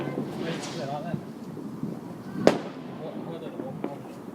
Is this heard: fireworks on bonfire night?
yes